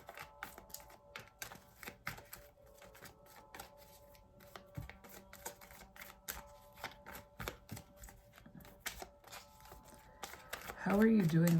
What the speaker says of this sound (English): I shuffled this deck before, but I just want to give it a light shuffle.